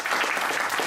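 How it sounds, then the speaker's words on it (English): Brief burst of applause from a Toastmasters meeting audience, dense close clapping filling the short moment at a fairly loud level. "And let's applaud yourself for all this."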